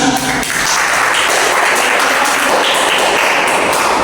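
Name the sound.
audience applause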